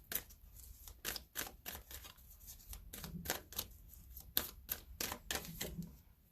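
Tarot cards are drawn and shuffled from the deck in a series of quick, crisp snaps and flicks, close and fairly quiet, with no speech.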